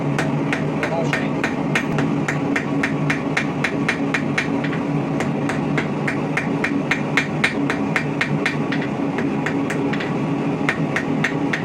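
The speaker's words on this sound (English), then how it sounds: "Now for our next one that is actually the simplest out of all of these, you forge a taper." A blacksmith's hammer strikes hot steel on an anvil while forging a long taper for a Christmas ornament, a steady rapid series of sharp ringing blows under a constant background hum.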